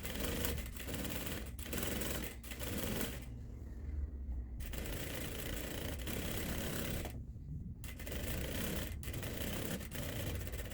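A sewing machine runs steadily and close up, stitching a half-centimetre gathering seam on a dress ruffle, its rapid mechanical chatter broken by two short pauses.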